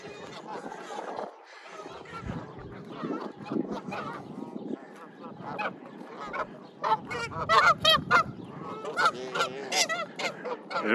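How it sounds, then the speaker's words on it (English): Geese honk and chatter as they are herded across a railed bridge on a lake walk, the calls growing louder and denser toward the end, with a person speaking in between. "herding geese."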